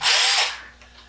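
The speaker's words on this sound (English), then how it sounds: "this drill motor still works" An old cordless drill motor from around 1989 gives a short, close whir that quickly winds down, with no talk.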